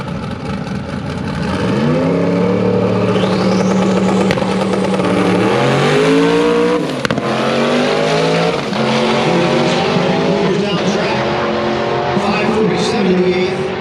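A 3,000-pound drag race car with an H-pattern shifter makes a full-throttle pass, engine screaming and climbing with audible gear changes and tire noise, loud and close, with commentary underneath.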